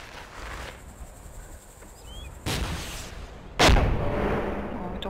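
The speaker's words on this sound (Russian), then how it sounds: "Он по танку стреляет, да?" Gunfire directed at a tank in ARMA 2: two sharp broadband cracks, the second louder and closer, over a constant insect-like buzz of background ambience, with no talk.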